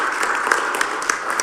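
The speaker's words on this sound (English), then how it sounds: "give her a round of applause" A board of education meeting audience gives a brief round of applause, steady mid-level clapping from a room full of people lasting about a second and a half.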